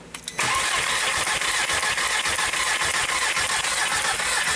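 A 1.8T car engine with a misfire and no spark on a cylinder cranks for a moment, then roars into a loud, steady running drone that fills the rest of the moment, recorded up close.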